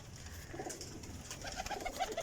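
Sialkoti pigeons coo softly in a short run of low, rounded calls, close by over a steady, faint background.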